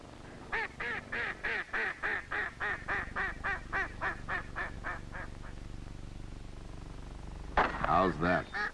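Ducks and geese call during a forest-pond hunt among trees and swamps, a rapid series of honking quacks that fades out, then a louder burst of calls near the end.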